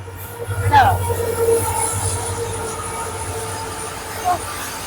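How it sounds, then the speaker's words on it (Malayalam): A freight train rumbles past with a low, continuous drone and faint metallic squeals, while voices murmur nearby. "ആ അതാ ട്രെയിൻ വരുന്ന ലോഡാണ് ചരക്കും കൊണ്ട് പോണതാ"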